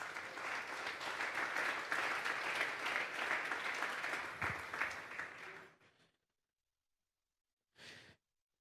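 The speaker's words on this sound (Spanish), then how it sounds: "Dele un fuerte aplauso pues al Señor." A church congregation at a Sunday service applauds loudly and steadily for about six seconds, then the clapping cuts off into silence before a brief final burst of claps.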